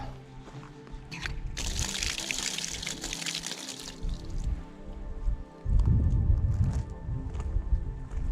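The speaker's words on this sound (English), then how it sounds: "My own water tap." Water splashes and pours steadily from a campsite tap at Glengarriff, a hissy rush early on and a heavier gush later, with faint background noise and no speech.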